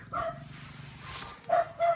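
Pet dogs waiting to be fed give a few short, sharp barks and yips, with one bark near the start and a quick pair near the end, fairly close against a quiet background.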